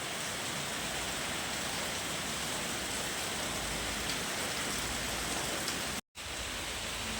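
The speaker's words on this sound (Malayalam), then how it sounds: "പുറത്ത് നല്ല മഴ പെയ്യുന്നുണ്ട്." Heavy rain pours outside as a dense, unbroken hiss that holds steady throughout, with one brief dropout near the end.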